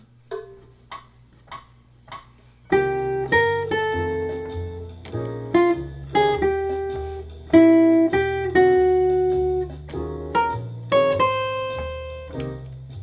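Jazz guitar plays a single-note line that alternates an original phrase with a rhythmically displaced version: a few soft, sparse picked notes, then brighter plucked notes over sustained low bass tones, close and clear with no talking.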